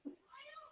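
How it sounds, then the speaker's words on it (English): A house cat meows close by, a short two-part call with a rising second note. "The cat that was making so much noise."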